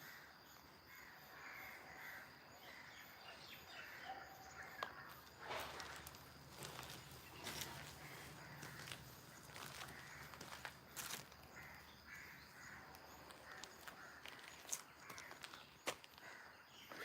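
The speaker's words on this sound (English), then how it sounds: "You hear a lot of crows." Crows caw in rural Malaysia, harsh calls scattered through a faint outdoor ambience with other birds and occasional soft footstep-like knocks.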